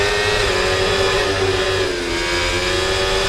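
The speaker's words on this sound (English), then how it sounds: "As we go close to the walls, the engine actually echoes." A Formula 1 race car engine in the F1 24 video game screams at high, steady revs while passing close to the Monaco street-circuit walls, its loud whine echoing continuously with a slight dip midway.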